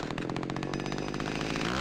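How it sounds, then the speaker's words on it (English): Chainsaw in the horror video game Cry of Fear, a loud, close, continuous buzzing engine roar with rapid pulsing, running steadily for under two seconds without talk. "It's just a guy holding a chainsaw."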